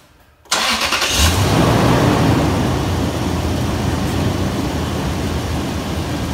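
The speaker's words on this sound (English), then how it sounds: "I'm going to start the truck up so you can see it on the screen" A truck engine cranks and fires up after a brief quiet moment, then settles into a loud, steady running idle close by.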